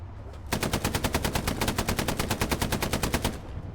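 An artillery strike in a tank video game comes as a rapid, steady barrage of loud, evenly spaced bursts that start abruptly and keep firing for about three seconds, sharp and close, with no talking.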